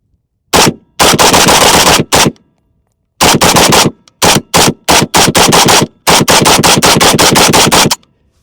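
A PSA AK101 rifle fires loud, close rapid strings of shots, several bursts of varying length broken by brief pauses, outdoors at a range.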